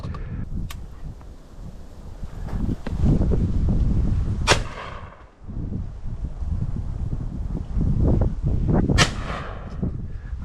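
Two loud shotgun blasts ring out in open fields during pigeon decoying for crop protection, spaced a few seconds apart over gusty wind and rustling.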